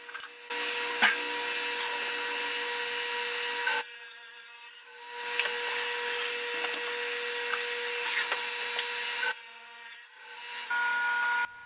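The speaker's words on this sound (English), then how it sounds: "Next, 2x4s are cut at the radial arm saw to make the shelf surrounds" A radial arm saw cuts through 2x4 boards in two long, loud passes, a harsh whining buzz of the blade in wood, separated by a brief quieter gap and ending with the motor winding down.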